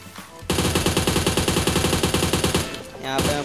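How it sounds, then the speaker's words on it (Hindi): Rapid automatic gunfire in the PUBG Mobile battle royale game, a loud sustained burst of evenly spaced shots running for about two seconds, followed by a brief pause and a further rattle of shots. "एक दूसरा बंदा मेरे को फायरिंग कर रहा है"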